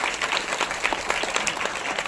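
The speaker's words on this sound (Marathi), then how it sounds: "जोरदार टाळ्या वाजल्या पाहिजे" Hall audience at a Rotary school event for a science lab and e-learning kit breaks into steady, dense applause, many hands clapping continuously at moderate distance.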